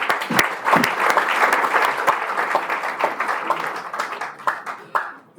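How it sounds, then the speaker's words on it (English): Students in a large audience at an entrepreneurship talk in Ghana applaud, with loud, uneven clapping and sharp individual hand claps standing out across the whole stretch. "Clap for yourself again."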